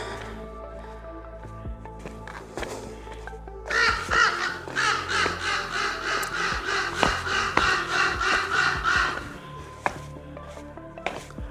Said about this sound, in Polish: Wrony kraczą.